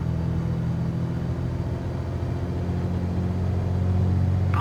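A Piper PA-28R Turbo Arrow slows on the ground under braking in Microsoft Flight Simulator, a steady low engine drone and rumble held throughout, close and continuous.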